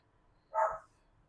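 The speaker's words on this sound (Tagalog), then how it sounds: "Stop barking." A single sharp dog bark at moderate distance, one short burst rising out of quiet room tone in a home setting, with no talk around it.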